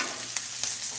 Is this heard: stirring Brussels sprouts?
yes